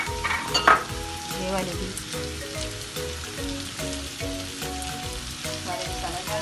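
Onions and spices sizzle and fry in a pan for masala bhindi, with steady close crackling and intermittent stirring scrapes throughout; a brief voice is heard near the start.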